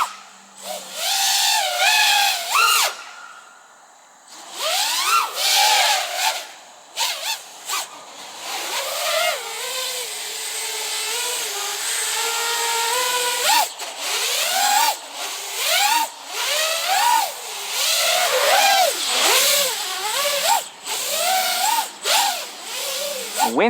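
An FPV racing drone's motors snap through quick throttle cuts, rising and falling whines in rapid bursts with brief gaps, close and loud, with a longer sustained hum in the middle.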